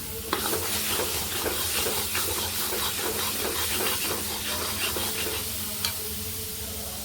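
Masala stuffing for karela fries in a pan, a steady loud sizzle and hiss with the rhythmic scrape of stirring running throughout, close up.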